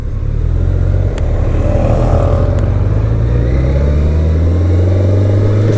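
A BMW K1100LT motorcycle engine drones steadily while riding out on the road, a loud, close, continuous hum with slight pitch shifts as the revs rise and fall, plus wind rush and no talking.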